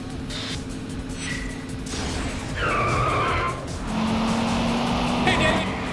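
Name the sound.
cars racing in the video game Yakuza 5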